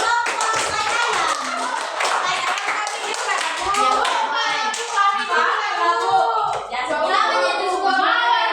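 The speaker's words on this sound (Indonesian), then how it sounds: "tepuk tangan buat kelompok tai ayam" Classroom of students clapping for a group during a teaching practice session, rhythmic hand claps mixed with lively children's voices and chatter throughout.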